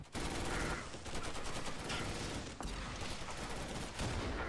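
Dense video game gunfire in a winter war battle, rapid overlapping bursts of automatic fire rattling almost without pause, loud and close, with a few brief lulls.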